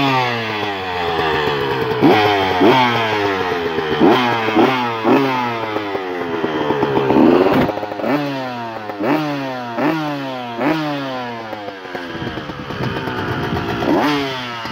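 A KTM dirt bike with Renthal bars and an orange powder-coated frame, two-stroke versus four-stroke, runs loud and close, its engine rising and falling through repeated revving sweeps for about fifteen seconds with no talk.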